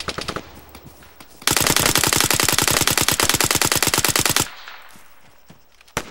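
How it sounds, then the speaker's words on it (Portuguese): Automatic gunfire from an Arma 3 battle royale match: a loud, sustained burst of rapid, evenly spaced shots lasting about three seconds, with a few scattered shots before it and a fading echo after. "É ele que tá atirando?"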